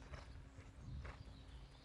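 A horse's hooves strike the ground during dressage training in an arena, soft muffled footfalls in an even rhythm, faint and at a moderate distance.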